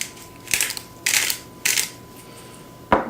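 Ground pepper being cracked from a mill into a potato cake mixture, in three short gritty bursts of grinding, then a sharper click at the end. The sound is close and dry, with no voices.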